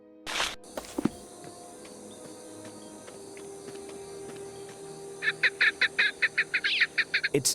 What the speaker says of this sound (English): It's definitely a partridge.